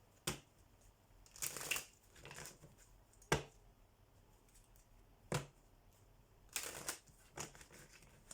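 Tarot cards are shuffled in short, separate bursts of riffling and soft slaps, close and fairly quiet, with pauses in between and no talking.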